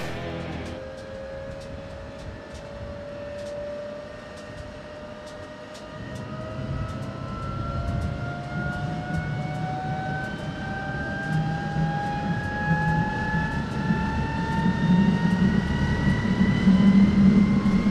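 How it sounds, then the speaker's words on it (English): Jet engines on a vintage military trainer spool up during start, a rising whine that climbs in pitch over about eighteen seconds, joined midway by a growing roar, close and steadily louder. "finally, it was time to fire up the jet engines"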